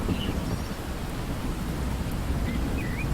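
Heavy rain pours in a dense, steady broadband wash with a low rumble beneath, continuous and close throughout, no voices over it, set in an animated story.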